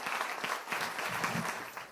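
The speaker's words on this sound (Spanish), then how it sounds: "Le damos un aplauso" A conference audience applauds to welcome a speaker, giving a brief, dense burst of steady clapping at moderate volume, with no talking over it.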